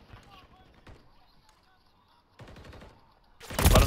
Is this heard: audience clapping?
no